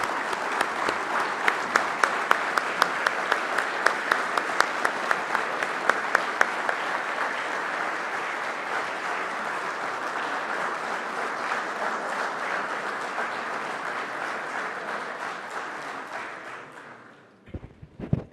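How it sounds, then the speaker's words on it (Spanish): A large audience at an animal health conference applauds for a long stretch, dense steady clapping that begins with a few sharper claps and fades out near the end. "lo que les quiero pedir es un aplauso muy grande como forma de agradecerle todo este tiempo"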